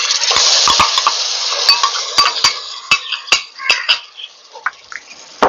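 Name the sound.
stirring ginger, garlic and green chilli paste in a pan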